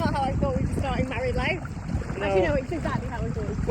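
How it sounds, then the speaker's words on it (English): A boat engine drones steadily on open water off the Isle of Skye, the rumble blending with wind buffeting the microphone while people talk over it. "I don't like driving the boat."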